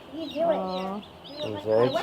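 Young broiler chickens of about five weeks in a barn on a traditional Mennonite family farm, giving soft repeated clucks and chirps close by, heard together with people talking.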